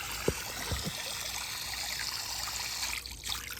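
Water from an adjustable above-ground pool fountain sprays and trickles in a steady, soft wash, with a few faint knocks early on and no talking.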